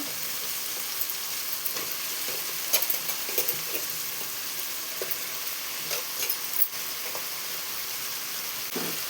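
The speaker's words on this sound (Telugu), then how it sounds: "ఇందులో వంకాయ ముక్కలు వేసేసుకుందాం" Eggplant pieces frying in a pan with salted, turmeric-coated onion pieces, a steady moderate sizzle with scattered crackles and light stirring scrapes, heard alone without talking.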